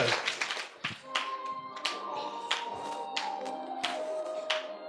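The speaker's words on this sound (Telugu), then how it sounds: "చప్పట్లు కొట్టు" A congregation at a church service claps hands in steady rhythmic beats, moderately close, while a voice carries on underneath.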